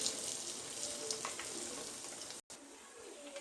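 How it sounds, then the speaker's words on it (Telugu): Urad dal fritters (minapappu garelu) fry in hot oil, a constant, close, crackling sizzle with small pops, steady throughout apart from a momentary dropout. "ఫ్రై అవుతుంది చక్కగా."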